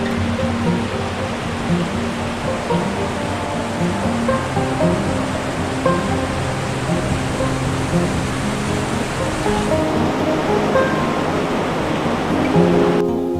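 A river rushes along a hiking trail in Nepal's Khumbu region, a loud steady roar of turbulent water filling the scene continuously, near and unbroken.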